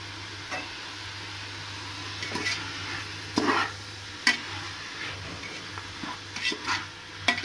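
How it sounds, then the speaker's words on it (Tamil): Onions sauté in a pan for veg pulao, a low sizzle broken by several short scraping stirs of a spoon against the pan, close and fairly quiet. "வெங்காயம் நல்லா வதங்கட்டும் பார்க்கலாம்"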